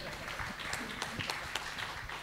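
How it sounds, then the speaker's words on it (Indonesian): A campus audience gives brief, scattered hand clapping, fairly quiet and thin, with individual claps standing out. "Tepuk tangan dulu dong teman-teman."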